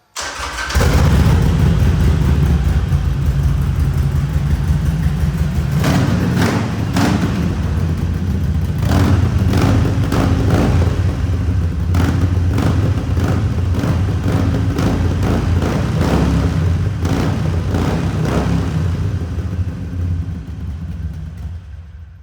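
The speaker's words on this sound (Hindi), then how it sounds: "आपने देखा बड़ी मज़ेदार इसकी साउंड है और Harley are known for its sound" Harley-Davidson 883 motorcycle fires up and runs loud and close, a deep steady exhaust idle broken by repeated sharp throttle blips throughout, with no talking.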